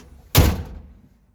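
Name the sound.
door of a 1959 Nash Metropolitan car shutting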